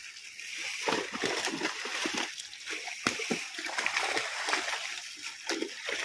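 A fishing net is thrown into a pond, its weighted edge striking the water in several bursts of splashing and sloshing, fairly close and steady, with faint voices in the background.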